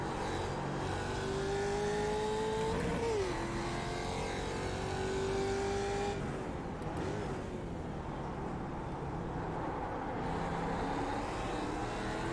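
Mazda Miata and Ford Mustang race cars run on track, engines revving and shifting under a steady in-car drone, with pitch rising and dropping as gears change.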